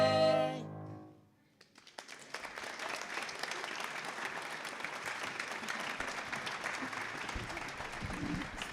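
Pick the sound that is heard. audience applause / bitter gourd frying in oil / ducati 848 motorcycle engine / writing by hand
audience applause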